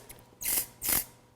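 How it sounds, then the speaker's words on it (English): Two quick bursts of powder spray hiss into the roots of hair at a salon styling session, each lasting about a fifth of a second, close and crisp against a quiet background. "I'm literally going to spray this into the roots of hair just to take any oil out of the hair"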